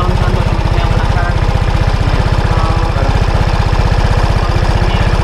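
A Vespa Sprint 125 scooter's single-cylinder engine idles close by, steady and loud with a fast, even put-put pulse throughout.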